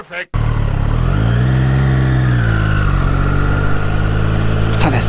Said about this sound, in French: Le ronflement du 3 cylindres.